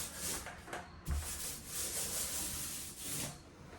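Paint roller working a top coat over a drywall repair near the baseboard and window casing, giving a steady soft rubbing, rolling texture with short bursts, close by and fairly quiet, no voices.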